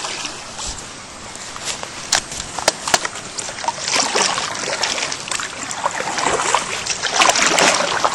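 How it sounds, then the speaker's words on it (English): A kayak runs small rapids on Buffalo Bayou. Water rushes and sloshes close by, paddle splashes come in irregular bursts, and the sound grows fuller and louder toward the end. "This is going to be kayak cam again as I run through the rapids."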